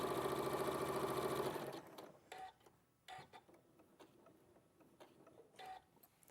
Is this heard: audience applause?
no